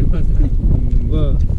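Strong wind buffets the microphone on a fishing boat out on open water late in the afternoon, a steady loud rumble running throughout while a person talks over it.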